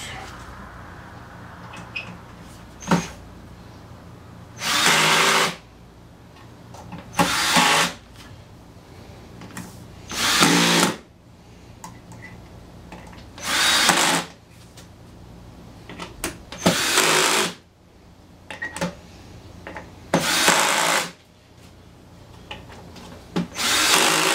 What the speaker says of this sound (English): now drive these screws